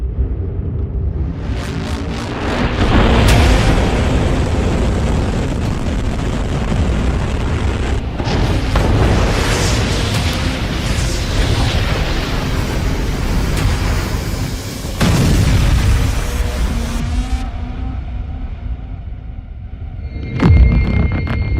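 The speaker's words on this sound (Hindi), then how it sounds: "30 सेकंड लगेगा, एटम बम फटेगा।" Deep booming explosion rumble of an atom bomb detonation, loud and sustained with rolling blasts and a final low thud near the end, no speech.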